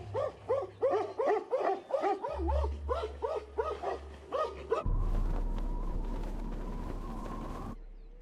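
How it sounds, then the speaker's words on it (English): Stray dogs barking at a bear in a village, a rapid rhythmic run of loud yelping barks that gives way to a lower rumbling wash of sound and a faint sustained whine. "The most they can do is bark at it until it has left after eating its fill."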